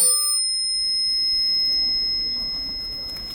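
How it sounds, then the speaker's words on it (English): A bicycle bell rings with a bright, sustained metallic tone in a narrow hall during a cycle tour in France, lingering over quiet ambience, with footsteps and shuffling noise rising underneath. "Maybe the bell will sound cool."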